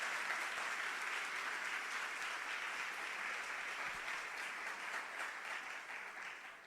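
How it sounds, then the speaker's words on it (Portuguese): Church congregation applause at a Sunday evening service, a steady, fairly distant wash of many hands clapping that continues evenly and then slowly fades. "Aplauda o Senhor pela vida do Rafael."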